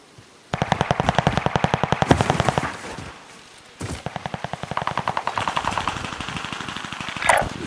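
Automatic gunfire in Call of Duty Warzone Pacific, two long rapid bursts of close, loud shots separated by a brief pause, with a short sharp sound near the end.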